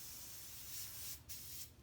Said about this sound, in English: So just a little spray.